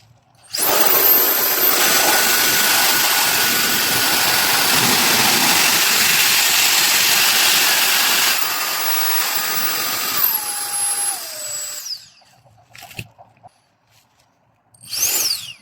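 A brushless Keelat KMTF05S power tool motor whirs at a steady high pitch for several seconds, then winds down and stops, followed by a few short bursts of spinning up.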